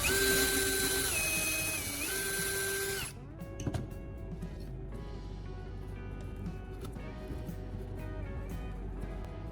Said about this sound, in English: I installed another welding rod in the electric drill